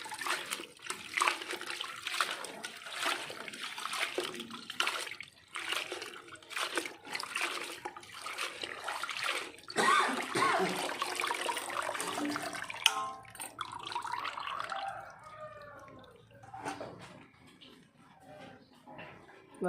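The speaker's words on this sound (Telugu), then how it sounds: "ఒలిసిన కొత్తిమీరని నీటిలో వేసి నీట్గా కడుక్కుంటున్నాను" Peeled coriander leaves are washed in water, with splashing, sloshing and trickling that rise and fall in irregular bursts, close by and fairly loud.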